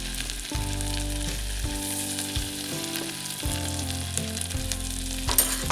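Chopped ginger and garlic frying in hot oil as a tempering for vegetable soup, a steady close sizzle throughout with light stirring, no voices.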